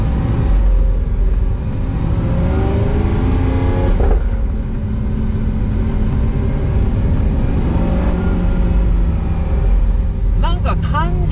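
Lamborghini Sian Roadster supercar engine droning steadily while driving, a loud continuous low rumble with a brief lift near four seconds, with chatter audible over it.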